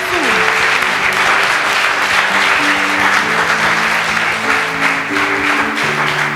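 Church congregation at a Sunday service clapping steadily, a dense continuous wash of applause with voices and cheering mixed in, loud and close throughout.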